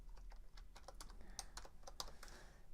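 Quiet, rapid typing on a computer keyboard, a steady run of light key clicks with a few sharper taps, close by with no voices.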